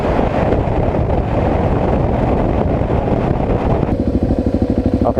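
BMW motorcycle ridden two up, heard as a steady engine drone under heavy wind buffeting on the microphone, continuous and loud throughout, with a rhythmic pulsing toward the end.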